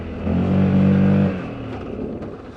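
A Loncin XWolf 1000 twin-cylinder motorcycle rides along, its engine rising to a loud steady drone for about a second, then easing off into rumbling road noise.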